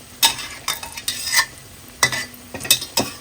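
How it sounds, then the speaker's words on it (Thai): An omelette sizzles in hot oil as a spatula pokes and scrapes at it, producing a loud, continuous frying hiss punctuated by several sharp clattering jabs against the pan. "ใช้ตาหลิวเนี่ยเฉาะๆลงไปที่เนื้อไข่หน่อยเพื่อให้น้ำไข่ที่อยู่ข้างในเนี่ยเขาจะได้แตกแล้วก็ น้ำมันเข้าไปสุกทั่วนะคะ"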